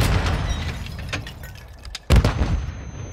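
A rocket launcher blast in Call of Duty: Modern Warfare II, one loud close boom that cuts in sharply and rumbles low, preceded by duller gunfire-like thuds and ambient battle noise.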